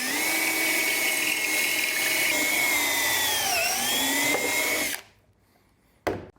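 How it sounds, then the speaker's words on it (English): A power drill bores pocket screw holes in plywood using a Kreg jig, a loud steady whine with a brief pitch dip, stopping near the end before a short final burst. "So now I just got to drill a whole bunch of holes for the pocket screws,"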